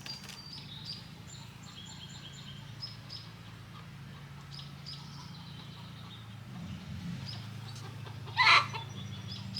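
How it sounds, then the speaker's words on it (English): A backyard chicken that has just laid an egg gives soft, scattered clucks under a low background hum, then one sharper, louder squawk near the end. No one speaks. "Oh, I think my chicken laid an egg."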